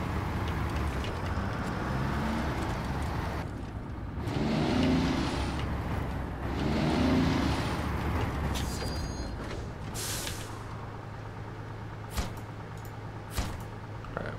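Truck engine droning steadily through a video-game delivery drive, a low continuous rumble with a couple of louder surges midway, later joined by brief sharp clicks and a high hiss near the end.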